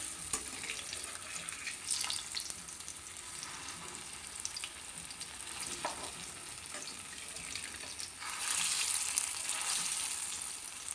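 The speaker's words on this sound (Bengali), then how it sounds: "কোপ্তাগুলোকে আমি উল্টে পাল্টে বেশ সুন্দর গোল্ডেন ব্রাউন করে ভেজে নিলাম" Jackfruit kofta balls fry steadily in hot oil, a continuous close sizzle with faint crackles that grows slightly louder near the end, with no voices over it.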